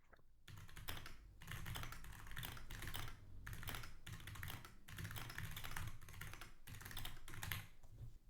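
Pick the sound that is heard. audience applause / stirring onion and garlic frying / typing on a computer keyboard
typing on a computer keyboard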